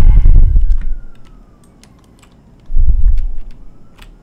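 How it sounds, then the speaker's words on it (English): A faint police siren from the Roblox game Lumber Tycoon 2 drifts in the background, sliding slowly in pitch. Two loud low thumps and scattered clicks of keyboard typing sit over it. "The sirens are coming for me again."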